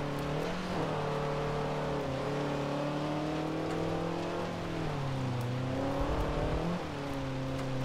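Simulated car engine in the Forza 7 racing game, revving up and dropping pitch as it shifts through gears, with two clear gear changes, loud and steady throughout with no talk.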